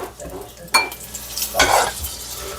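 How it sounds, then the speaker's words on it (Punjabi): Okra fries in a pan with a steady sizzle, broken by a couple of louder scraping stirs of a utensil against the metal, close and clear with no talking. "ਫਰਾਈ ਕਰਨੀ ਆ ਇਹ 5 ਤੋਂ 7 ਮਿੰਟ ਤੱਕ ਇਹਨਾਂ ਨੂੰ ਥੋੜਾ ਜਿਹਾ ਫਰਾਈ ਕਰਨਾ"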